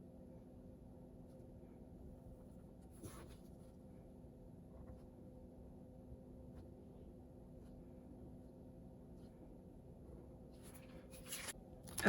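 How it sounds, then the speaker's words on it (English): A pen writes in a Hobonichi Weeks planner, a faint, soft scratching of paper strokes over a steady low background hum, with no talk. "So let me go ahead and just write that in."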